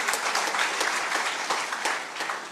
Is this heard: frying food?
no